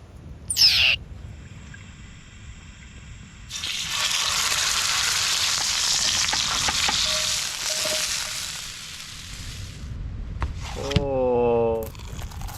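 Kala fish patties fry at a beach campsite, a loud broadband sizzle rising suddenly and holding steady for several seconds, with brief handling knocks and a whistling, owl-like tonal sound near the end.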